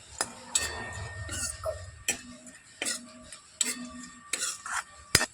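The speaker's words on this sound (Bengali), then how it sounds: "নাড়াচাড়া করে একটু হালকা লালচে করে ভেজে নেব।" Cashews and raisins stirred and fried in a pan until lightly browned, with intermittent clicks and scrapes of a spatula against the metal over a faint sizzle.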